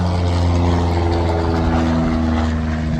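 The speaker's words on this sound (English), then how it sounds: "that's a really low plane" A low-flying airplane passes overhead near a garage building site, its steady droning engine roar loud and continuous throughout with no speech.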